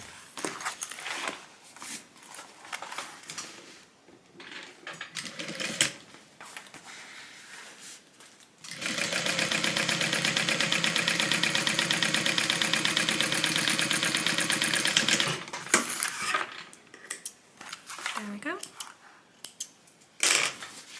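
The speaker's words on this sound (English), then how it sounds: "we're going to top stitch the side of the bottom as well" Sewing machine top stitching the side and bottom of a TriBeca tote bag, a steady continuous whir running for several seconds alone between quieter handling noises before and after.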